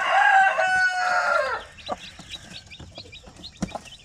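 Shamo Hazel chickens call close by, a rooster-like crow opening the scene followed by soft, scattered clucks and faint chick peeps in a quiet setting.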